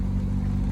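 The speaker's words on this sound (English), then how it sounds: "It's just burbling round in top." Triumph Roadster engine burbling along in top gear with a slight misfire, a low steady rumble heard from inside the car.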